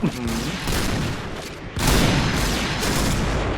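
Heavy gunfire rattles nonstop in the online shooter Point Blank, dense overlapping rifle bursts close and loud with a brief lull midway, while someone talks over the shooting.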